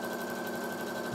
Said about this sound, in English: I just hit the go button and that's it. Let the machine do its thing. It will automatically back tack at the end.